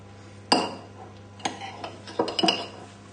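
A dessert spoon spreading lemon curd in a souffle dish makes scattered sharp clinks and scrapes against the dish, close and irregular with quiet gaps between.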